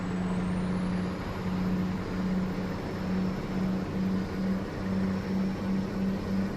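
A truck engine in American Truck Simulator drones steadily with a pulsing low hum and a thin high whine above, constant and fairly loud with no voices.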